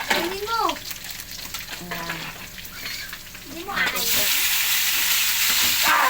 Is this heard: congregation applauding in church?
no